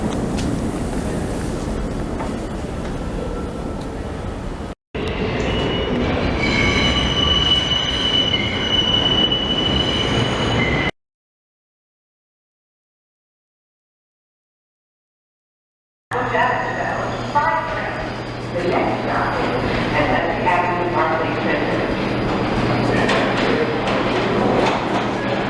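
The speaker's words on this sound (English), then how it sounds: "A southbound local train arrives" A southbound local subway train pulls into the lower level of Nevins St station in Brooklyn, loud and near, its wheels squealing and clattering as it arrives, with a stretch of silence midway.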